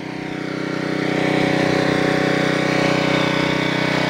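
A Generac 750 watt portable generator runs at a steady, loud buzzing drone, its small engine holding an even pitch after a brief rise in level, with no voices over it.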